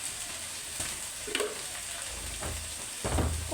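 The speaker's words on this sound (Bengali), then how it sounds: "এটাকে আমি ভালো করে কষায় নেব মশলাটাকে" Spices sauté in a pan for an egg and potato curry, a steady soft sizzle and fry with occasional stirring scrapes and clinks, close and fairly quiet.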